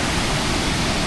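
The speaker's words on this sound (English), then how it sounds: "As we approach behind the waterfall" A Croatian waterfall roars in a dense, steady wash of falling water, heard close up and alone for a brief moment.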